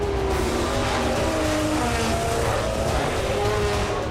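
Audi and Peugeot race cars drive in a 24-hour race, their engines droning continuously with rising and falling pitch. A faint voice may sit under the engine noise.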